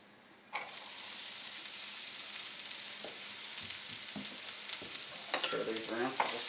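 Chopped garlic and onion hit hot oil in a pan with a sudden loud sizzle, then a steady frying hiss continues while a utensil scrapes and stirs, with a few brief clatters near the end.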